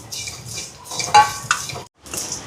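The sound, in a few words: dry roasting fennel, cumin, mustard, pepper, cinnamon, cardamom in pan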